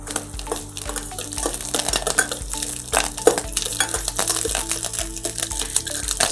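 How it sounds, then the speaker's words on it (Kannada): Chopped garlic frying in ghee in a pan, a steady sizzle under repeated scraping and stirring of a spoon against the pot, close and continuous with no talking. "ಸೊ ಗಾರ್ಲಿಕ್ ಅನ್ನ ಹಾಕಿ ಸ್ವಲ್ಪ ಫ್ರೈ ಮಾಡೋಣ."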